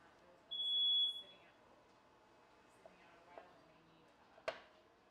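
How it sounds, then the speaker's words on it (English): A smoke alarm is set off by cooking smoke at a backyard barbecue party where chicken and beef are being grilled. It gives one clear, loud, high-pitched electronic beep, followed by quiet room sounds and a few faint knocks. "Heard that little beep there? That's fire alarm."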